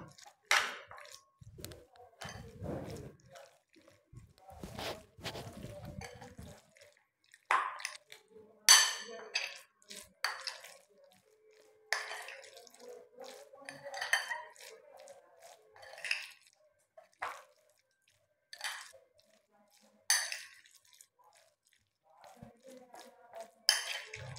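Chicken momo filling being mixed in a bowl, scattered clinks and scrapes of utensil against dish coming in irregular bursts with quiet gaps between, while someone talks in between.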